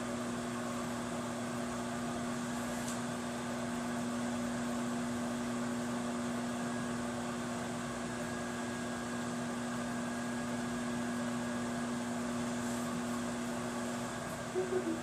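A microwave oven runs while cooking rhubarb sauce, giving a steady, even electrical hum with a constant tone that goes on unbroken and undisturbed by any talking.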